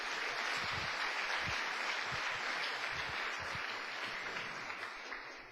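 A church congregation applauds, a dense, steady wash of many hands clapping at moderate distance that thins slightly toward the end.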